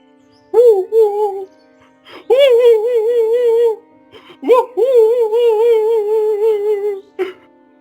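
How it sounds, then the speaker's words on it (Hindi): Wailing, whimpering cry in a cartoon story set in a dense forest, coming from a dripping clay pot: three drawn-out sobbing bursts with wavering pitch, separated by short pauses, loud and alone without talk. "अचानक कहीं से रोने की आवाज आती है"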